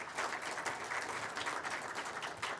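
Audience applauding steadily for finance officials of the Chickasaw Nation at a college media announcement, a dense, even wash of clapping for a few seconds with no talk over it.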